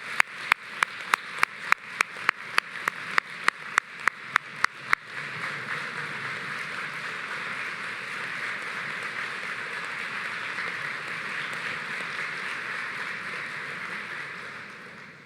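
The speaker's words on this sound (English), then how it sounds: "Please give our honored guests a round of applause for all their hard work and dedication." Applause for honored guests at a high school top ten percent banquet: a few distinct sharp claps at first, quickly swelling into steady, sustained clapping from a room of people that continues to the end.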